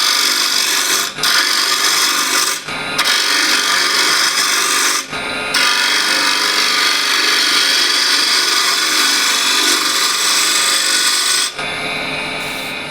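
A spindle gouge cuts a wooden bowl turning on a lathe at increased speed, giving a loud, steady hissing scrape close up with a few brief pauses where the tool lifts away.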